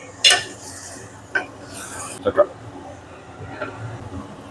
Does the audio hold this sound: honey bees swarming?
no